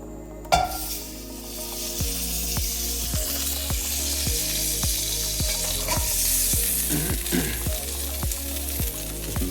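Beef tallow melting and sizzling in a hot pan for a crayfish sauce, a steady close frying hiss with soft regular ticks and pops running throughout, no voices.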